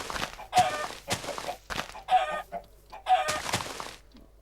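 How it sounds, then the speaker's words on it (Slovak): A Minecraft chicken clucks in short bursts, four or five clipped calls spaced evenly with quiet gaps between them, close and clear with no other sounds. "Ešte tuto bolo jedno kura"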